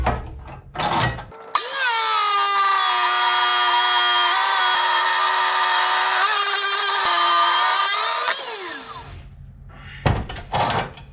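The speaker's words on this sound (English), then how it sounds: "We're gonna get this up on the chop saw. We'll get these cut in half." A chop saw cuts metal skid pieces for a snow pusher box, a loud sustained whine lasting about seven seconds that winds down at the end, framed by a few clanks and handling noises before and after.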